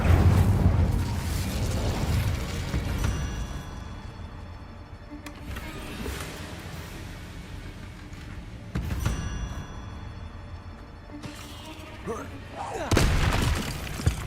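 Fire spell cast in the video game Hogwarts Legacy, heard as a loud whooshing burst with crackling booms and shattering impacts, repeated several times over a rumbling game background.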